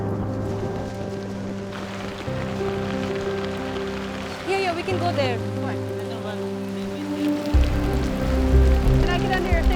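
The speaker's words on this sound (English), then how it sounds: "comes the rain." Monsoon rain falls steadily on a Rohingya refugee camp, a continuous patter on surfaces with a persistent low hum, while people talk briefly nearby.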